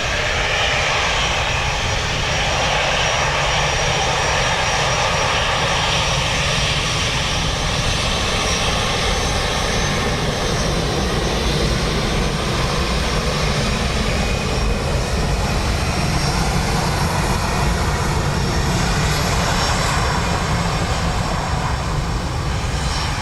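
A Ryanair airliner takes off from runway 10 right at Dublin Airport in windy, wet weather, its engines producing a loud, steady broadband roar that holds up through the whole stretch.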